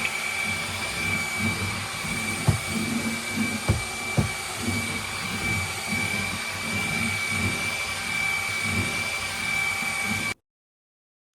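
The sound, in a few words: wet and dry floor vacuum on turbo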